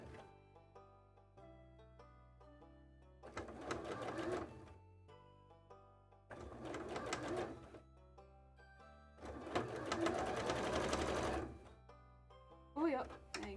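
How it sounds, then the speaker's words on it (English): A sewing machine backstitches a cosplay tail in several short bursts of whirring, separated by pauses that carry soft tones, fairly quiet and close. "For the good of the test, we will backwards sew."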